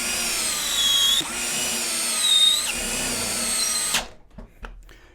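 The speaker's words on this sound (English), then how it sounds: "we're going to see which one is able to drive these screws into the wood the quickest" A DeWalt cordless impact drill driving screws into wood whines steadily at high speed in several long bursts, pitch dipping briefly between them, then cuts off abruptly, leaving quiet clatter.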